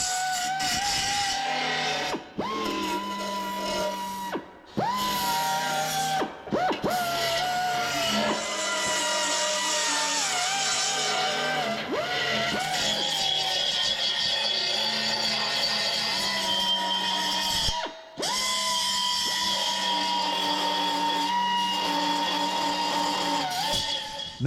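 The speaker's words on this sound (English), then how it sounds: "now I'm just going to clean up the inside edges, get all the burrs out of it" A power tool whines as it deburrs the freshly cut edges of a car rocker panel, grinding in a loud sustained tone that shifts pitch under load and drops out in a few brief pauses.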